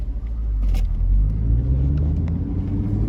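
A deep, throaty Chevrolet Camaro 2SS engine idles and rumbles loudly nearby, with a slight rev swelling the exhaust note, no speech.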